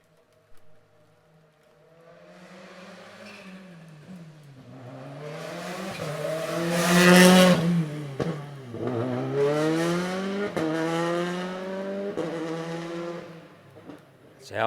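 A WRC rally car at Rally Japan 2023 revs and surges along a wet road while warming its brakes and tyres, engine pitch climbing and dropping in repeated sweeps as it nears and passes, loud and close under commentary.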